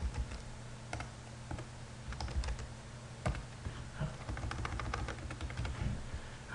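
Typing on a computer keyboard, a quiet, irregular run of light plastic key clicks with short bursts and pauses, close by and alone.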